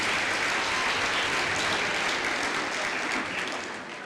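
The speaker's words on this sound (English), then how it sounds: "just give them a big clap for having helped you walk this journey." Sustained applause from a graduation ceremony audience, a dense wash of many hands clapping close and loud, holding steady before tapering off at the end.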